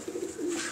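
A pigeon coos nearby with a soft, low two-part rolling call, clear and alone with faint background ambience.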